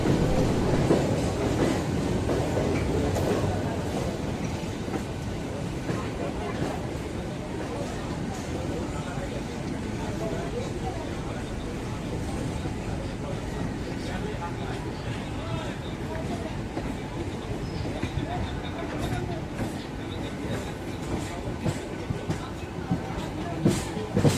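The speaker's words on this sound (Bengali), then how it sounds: "এখন আমাদের বাদিকে যে ট্রেনটি হাওড়া থেকে ছেড়ে যাচ্ছে এটি হলো 18003 রানী শিরোমণি এক্সপ্রেস" The 18003 Rani Shiromani Express pulls out of Howrah station, giving a steady rumble and wheel clatter from a neighbouring track, heard from inside another train, fairly constant and slowly easing off over the span.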